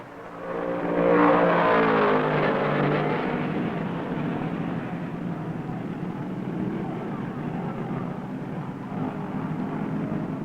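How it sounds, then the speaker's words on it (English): A 1969 NASCAR Grand National stock car, the electric blue number 43 Ford, roars down the straight at Riverside on the last lap, a loud sustained engine drone that swells early then holds steady, with no voices. "Richard blisters his electric blue number 43 Ford through turn 9 and down the straight"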